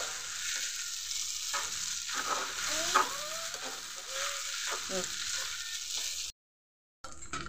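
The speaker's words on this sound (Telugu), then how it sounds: "ఎగ్స్ ఫ్రై చేసి పెట్టుకున్నాను కదండి, ఇవి కూడా వేసేసాను. ఇలా కలుపుకుందామండి." Fried eggs stirred into semiya noodles frying in a pan give a steady close sizzle with scraping stirs, then a brief gap of silence before the sizzle resumes.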